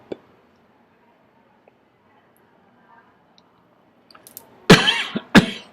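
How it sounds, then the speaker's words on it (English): Two sharp, loud coughs close by near the end, after a stretch of near silence with faint ticks and small mouth noises. "Cough is back."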